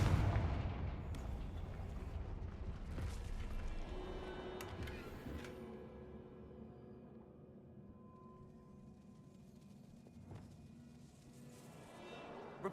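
A Confringo fire spell from Hogwarts Legacy bursts with a loud, booming blast at the start, followed by a crackling, rumbling tail that slowly fades, with a few smaller pops and settling debris later on.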